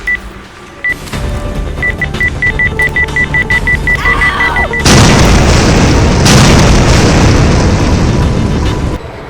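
A series of repeated beeps gives way to a loud, sustained explosive boom in a Thai film that roars on for several seconds before cutting off.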